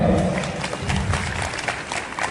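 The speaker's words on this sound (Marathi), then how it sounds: "सगळ्यांना टाळ्या वाजवा" An audience claps at a Marathi comedy game show event, a lively burst of applause that stays fairly steady and then thins out toward the end.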